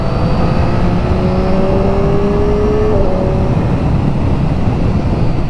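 A motorcycle carrying a passenger accelerates on the road, its engine tone climbing steadily beneath loud, constant wind and road roar that fills the whole stretch.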